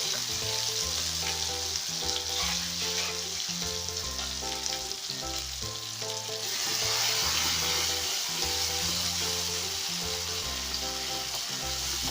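Steady, loud sizzling of onion and tomato paste frying in a hot pan for egg curry, with a continuous crackling hiss and no talking.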